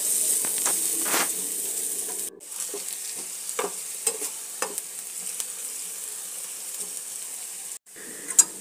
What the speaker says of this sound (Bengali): পেঁয়াজটাকেও এবার একটু ভাজা ভাজা করে নেব।